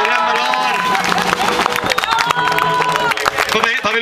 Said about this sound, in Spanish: ¡Aplausos al Nico!